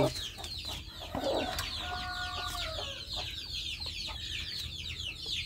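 Free-range village chickens kept by a small-scale farmer cluck and chatter together in a steady stream, with a few sharper calls rising over the flock, close by and moderately loud.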